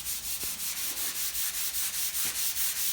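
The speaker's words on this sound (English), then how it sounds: "let me finish sanding this right here real quick" Rhythmic back-and-forth sanding strokes rasp steadily across a Chevy pickup truck's body panel, close and even, repeating about every quarter second.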